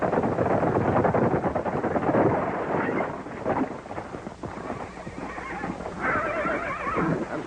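Horses neigh and whinny loudly over a rumbling background of clip-clopping hooves in a 1937 Western setting, with a few cries standing out near the end.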